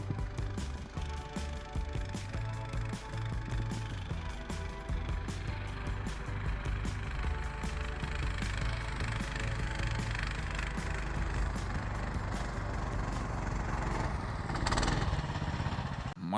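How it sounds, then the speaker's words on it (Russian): Sputnik Classic motorized snow tow unit, a small-engine motor dog, running steadily close by as it drives through deep snow, a continuous mechanical drone with rattling, gear-like clatter and no voices. "Мотобуксировщик Спутник Классик."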